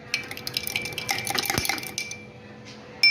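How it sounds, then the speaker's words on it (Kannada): A spoon stirs sugar, lemon juice and salt in a glass of juice, giving a run of close, quick metallic clinks and scrapes for about two seconds, then a pause before a final clink. "ಇವಾಗ ಇದನ್ನು ಚೆನ್ನಾಗಿ ಮಿಕ್ಸ್ ಮಾಡ್ಕೊಳ್ಳೋಣ"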